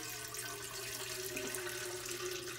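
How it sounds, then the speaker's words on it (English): Melted soy wax for honeysuckle wooden-wick candles pours from a Presto pot in a steady, soft liquid stream, faint and continuous with no talk. "pour my wax"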